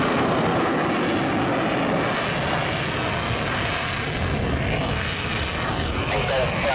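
An airplane takes off from runway 27 with a loud, broad engine roar that holds steady across the whole stretch, while voices talk over it.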